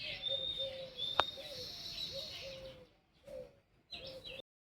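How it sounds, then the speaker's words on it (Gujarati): Sparrows chirping on a morning, bright repeated tweets near and clear over faint background noise, ending in silence. "સવાર સવારનું વાતાવરણ તો જો મસ્ત ચકલા બોલે છે."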